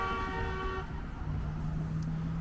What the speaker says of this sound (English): It's going to be a very noisy walk with all the cars here.